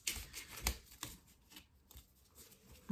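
Psychic reading cards shuffled by hand, a few soft riffling bursts and taps spread over a few seconds, close and fairly quiet with no talking.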